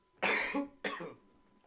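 Two harsh, loud coughs close to the listener, the second shorter than the first, with a quiet pause between them.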